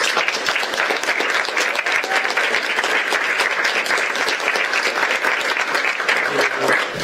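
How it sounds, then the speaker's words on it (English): An audience at a teen town hall meeting claps in sustained, dense applause that stays loud and even throughout. "Let's give a big hand of applause to Brogan Lewis."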